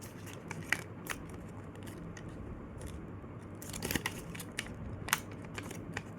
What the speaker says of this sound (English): we just flatten it and just fold this valley fold